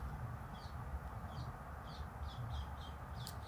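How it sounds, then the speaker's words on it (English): Faint, distant bird chirps repeat at a steady pace, about twice a second, over a low rumbling background hum. "I'm not sure if you can hear the birds."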